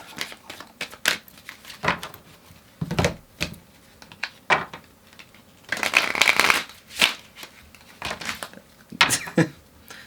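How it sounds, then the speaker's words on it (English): Tarot cards are shuffled in quick papery riffles and taps, irregular bursts with brief pauses, close and fairly soft. "That was the silliest shuffle."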